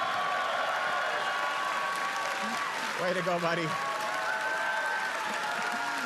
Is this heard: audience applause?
yes